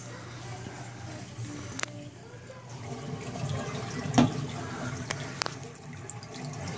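Water flows and trickles through the filter and rocks of a 65-gallon turtle tank, a steady low gurgle with occasional splashes and clicks, while someone talks over it.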